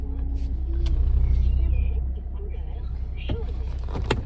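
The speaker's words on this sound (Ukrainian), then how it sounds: "Так, їдемо машиною." Low engine rumble and road noise from a moving car, with muffled voices talking and a few clicks and knocks inside the cabin.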